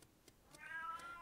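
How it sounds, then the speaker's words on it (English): A cat gives a faint, drawn-out meow that rises and holds for about half a second against quiet background noise. "Shut up, cat."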